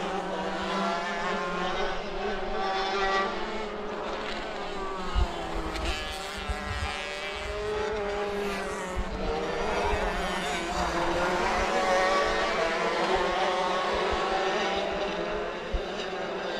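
Racing karts in a karting league race at Adams Motorsports Park, buzzing engines droning steadily over the whole stretch with rising and falling pitch as karts pass, dense and continuous, with a faint voice partly mixed in.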